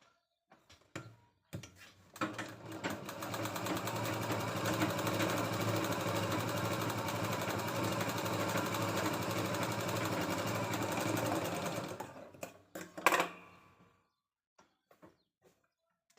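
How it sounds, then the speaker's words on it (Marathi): Electric sewing machine tack-stitching the two lower cross strips of a katori blouse, a steady continuous mechanical whir running loud and unbroken for about ten seconds before stopping, with brief handling clicks before and after. "आपल्याला इथं ह्या खालच्या बाजूला दोन्ही क्रॉस पट्ट्याला टिप मारून घ्यायची आहे"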